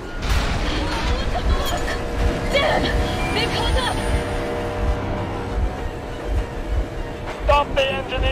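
A train engine runs in the Metro Exodus video game, heard as a continuous rumbling, clattering rail drone with intermittent metallic clanks, while people talk over it.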